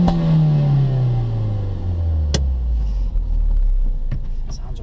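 A 2016 Ford Focus RS engine turns over and settles into a loud, close idle, its deep rumbling tone dropping steadily from the start-up rev before a few light clicks.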